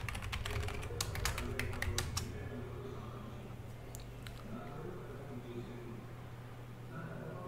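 Someone types on a computer keyboard, a quick burst of close, sharp key clicks for about two seconds followed by a few scattered taps against a quiet hum.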